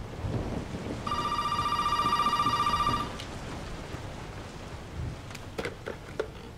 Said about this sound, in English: A phone. Phone ringing.